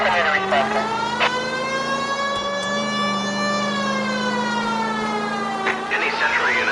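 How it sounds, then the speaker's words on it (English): Police car siren in the L.A. Noire video game, a loud sustained wail that dips and climbs across several seconds, with brief voice fragments over it near the start and end. "Please, Phelps, the siren."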